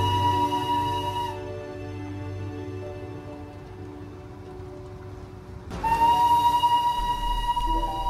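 Darjeeling toy train running on its rails, a steady low rumble and clatter with a sustained tonal hum that fades mid-way and swells back louder near the end, no voices.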